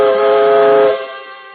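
A steam train's horn or whistle blares in a loud, sustained harmonic chord that holds for about a second and then drops off abruptly, leaving a fainter tail, as a radio drama sound effect for a departing locomotive.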